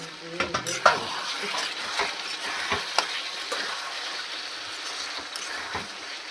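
Meat is sautéed in a pan with a constant sizzle, broken by repeated spatula scrapes and metallic clinks against the pan, close and moderately loud.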